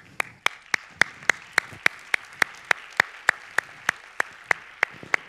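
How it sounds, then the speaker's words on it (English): Clapping at an opening keynote of a commerce conference in Monaco, heard as a steady, evenly spaced run of sharp, distinct claps, about four per second, with no voices. "So let's give everybody here a round of applause."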